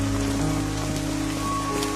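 Steady rain falls in a dense, even wash across the whole stretch, pattering on a surface at moderate level, with no voices and faint tonal hum running underneath.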